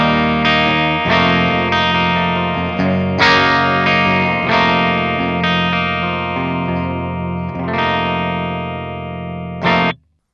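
A PRS McCarty SC56 electric guitar on its bridge pickup plays a clean tone with effects and some grit: sustained strummed chords ring out with several fresh attacks, loud and close, ending in a brief final strum and a sharp cutoff.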